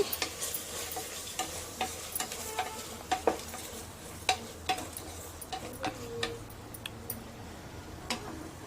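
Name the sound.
stirring paneer biryani masala with salt and turmeric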